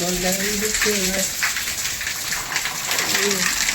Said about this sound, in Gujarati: બહાર વરસાદ